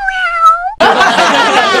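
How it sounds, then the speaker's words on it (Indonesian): A cat gives a single clear, drawn-out meow up close, then a loud, dense burst of sound abruptly takes over. "Ngebiakin kucing."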